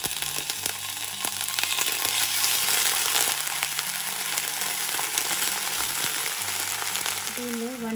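Green chilies fry in hot oil with a spoonful of yogurt in a pan for Egg 65, a loud, steady, close sizzle that crackles continuously throughout with faint stirring underneath.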